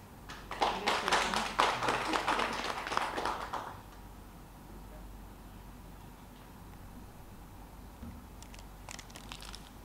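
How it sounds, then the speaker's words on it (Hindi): Audience at a political press meet clapping in a short burst for a few seconds, moderately loud, then fading into quiet room tone with a few scattered claps near the end. "एक जोरदार ताली तो बजा रहे।"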